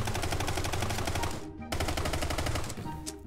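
Rapid machine-gun fire in the Brick Rigs video game shoots a hole through a wall, a loud continuous burst that cuts out briefly and then resumes, with no speech over it.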